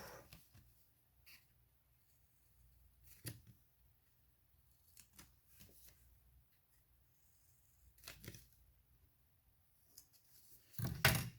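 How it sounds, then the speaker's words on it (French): Paper cut at a bevel with scissors while assembling a handmade Christmas album, heard as sparse, quiet snips spaced several seconds apart in a still room, with a louder cluster of cuts at the end. "Et ce qu'on va venir faire, c'est couper en biseau."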